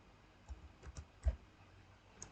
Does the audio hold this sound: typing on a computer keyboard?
yes